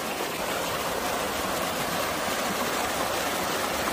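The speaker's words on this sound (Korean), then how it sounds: "시원하게 흘러가는 물소리, 더위를 좀 식혀보시기 바랍니다." Water flows steadily down a rocky stream in a Korean riverbed, a continuous, close, broadband rushing and splashing with no pauses and no voices.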